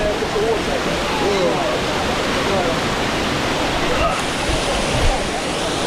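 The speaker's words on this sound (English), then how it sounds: "Look at that bit. Water gushing off there." Water gushing at Dunn's River Falls in Jamaica: a steady, loud, broadband roar of falling water that continues unbroken throughout, with faint voices mixed into it.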